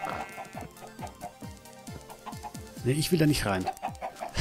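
Chickens in Minecraft cluck in a steady series of short descending calls, with a voice talking over the later part.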